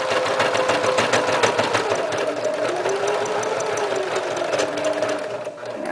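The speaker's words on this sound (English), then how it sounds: "just press the power foot and just start making a buttonhole" A Kenmore 385-16220 sewing machine stitches an automatic buttonhole. A close, continuous motor whir carries a rapid rhythmic needle chatter for six seconds, with no talk.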